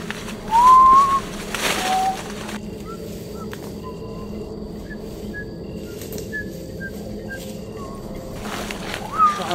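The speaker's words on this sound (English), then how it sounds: "one monotone whistle" A person whistles brief, thin single monotone notes outdoors in the woods, one clear whistle early then faint short pips, over a quiet background hum.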